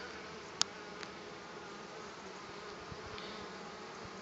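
Honeybees returning to the hive with yellow pollen loads, a steady low buzzing hum throughout with a sharp click early on; no talk.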